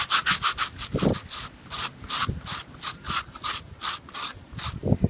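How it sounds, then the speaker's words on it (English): Glue scrubbed off a fiberglass piece with a shoe brush, outdoors: quick, rhythmic back-and-forth brushing strokes, close, with short bursts in a steady pattern. "Scrub it down real quick."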